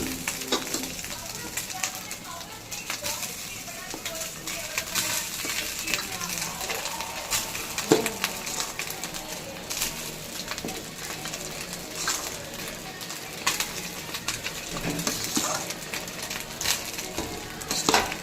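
Rice stir-fried in a hot pan for hotel-style egg fried rice: a steady, fairly loud sizzle runs throughout, with frequent metallic scrapes and clinks of a spatula against the pan.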